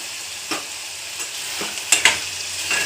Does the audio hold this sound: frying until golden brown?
yes